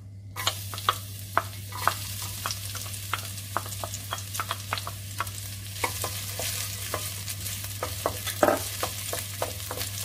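Garlic fries in a little rapeseed oil in a hot pan, a steady close sizzle broken by frequent clacking stirs, with a constant low hum underneath.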